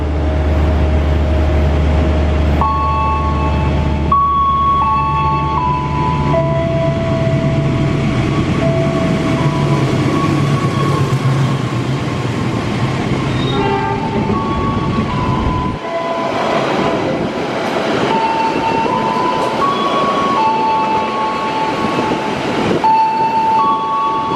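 A long passenger train runs through Klari station, its carriages including a Luxury Sleeper car. The loud, steady rumble of wheels on rails carries on for the whole stretch, with squealing metallic tones rising and falling above it.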